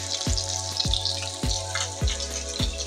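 Pork fries on low heat as its fat renders out, a steady sizzle broken by soft, regular clicks and pops about every half second, close and moderately loud with no talking.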